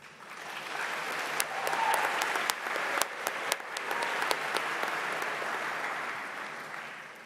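Applause from an audience at a middle school closing ceremony at Providence Day School, honoring the teachers and administration: steady, dense clapping held at an even level for about seven seconds, with a few louder claps standing out.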